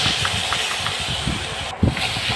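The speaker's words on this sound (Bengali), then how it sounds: "এখন সেগুলোকে আমি আবার তেলে নেড়ে নেব" Mashed crab legs stirred in hot oil for a spicy crab vorta, a continuous loud sizzle and hiss with soft, irregular scraping strokes of the stirring.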